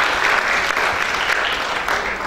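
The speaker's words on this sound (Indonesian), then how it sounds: "Tepuk tangan dulu buat Tuhan Yesus." A church congregation claps together in steady, sustained applause that fills the whole stretch without letup.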